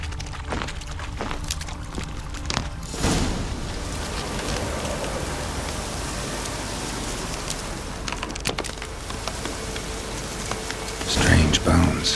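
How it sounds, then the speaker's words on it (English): Steady rain in the open-world game The Witcher 3, a continuous dense hiss with scattered drops and a low rumble near the end, moderately loud and without speech. "Looks like rain."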